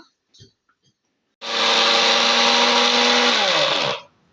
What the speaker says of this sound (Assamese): এতিয়া এইখিনি সৰু সৰুকৈ মিহি মিহিকৈ কাটি মিক্সিত ভালকৈ গুড়ি কৰি ল'ব লাগিব